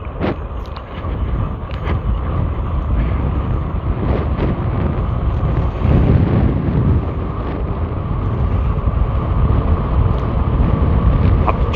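Steady, loud wind buffeting rumbles continuously over the microphone while riding a 52-volt Movcan V70 electric bike, with no other distinct sounds standing out.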